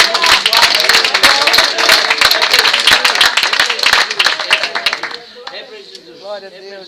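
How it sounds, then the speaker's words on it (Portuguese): A church congregation claps together in loud, dense applause for several seconds, then the clapping thins and fades while a voice speaks over the tail end. "Eu quero que sejam umas palmas dadas a Jesus"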